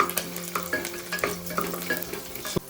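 Garlic and cloves sauteing in ghee in a pan, an even sizzle broken by rhythmic scraping stirs and a sharp knock near the end.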